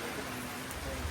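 Rain falls steadily in a broad, even hiss, with no distinct drops standing out.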